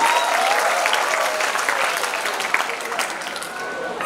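Lively audience applause fills a university hall during a ministerial talk show in Jakarta, loud and dense at first and tapering slightly, with faint voices mixed into the clapping.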